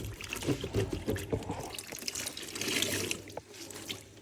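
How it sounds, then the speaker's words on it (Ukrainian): A microfiber cleaning cloth is dunked and wrung in a container of warm water, giving soft close splashes, drips and trickles over about four seconds at low volume. "Беремо її в теплу водичку, намочуємо."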